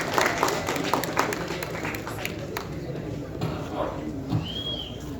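A film trailer launch audience applauds to welcome actor Arun Vijay: steady, dense clapping from a crowd fills the whole stretch, with a voice heard over it.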